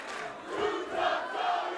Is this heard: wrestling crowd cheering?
yes